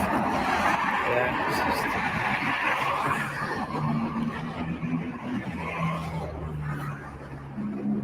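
A loud Lamborghini Murcielago with Canadian plates, stopped by police, rumbles and roars steadily throughout, its engine noise thick and close while people talk over it.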